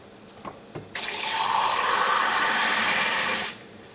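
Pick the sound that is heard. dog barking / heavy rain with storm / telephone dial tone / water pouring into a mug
water pouring into a mug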